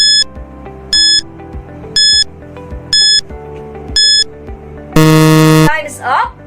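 A steady series of short electronic timer beeps, about one a second, ends in a long, loud, harsh buzzer as time runs out in a timed quiz, heard over a faint low background.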